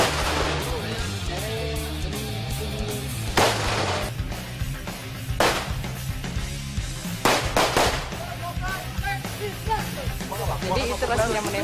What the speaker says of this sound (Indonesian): Penembakan satu butir di dada.